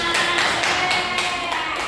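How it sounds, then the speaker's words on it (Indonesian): A class of students clapping their hands together during a lesson, a dense, steady patter of many hands that keeps going for the whole stretch at a fairly even loudness. "Oke, tepuk tangan."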